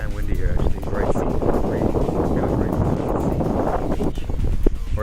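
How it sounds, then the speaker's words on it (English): Gusty wind buffets the microphone with low rumbling roar, while a person talks over it throughout, beside the ocean on the West Coast Trail, British Columbia, Canada. "It's pretty damn windy here actually."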